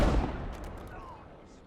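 A Pershing tank's main gun fires in Company of Heroes 2, a single loud booming shot up front whose rumble trails off over the next second and a half.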